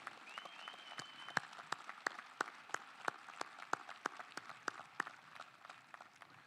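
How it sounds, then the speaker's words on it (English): Applause at a 2021 undergraduate college commencement, heard as sparse, scattered hand claps from a thin crowd, faint and distant, with separate claps ringing out irregularly and a faint high tone near the start. "Would you join us in giving that group a round of applause for caring so much about you?"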